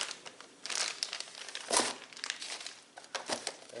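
Plastic bag wrapped around a Baxter straight line sander being unpacked, crinkling and rustling up close in irregular bursts with a few sharper crackles and brief pauses.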